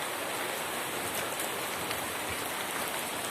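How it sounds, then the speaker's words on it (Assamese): Dense, steady pattering of hail striking surfaces during a hailstorm in Assam, a continuous loud hiss with scattered harder impacts. "শিল এনেকৈ শিল আহিছে আজি"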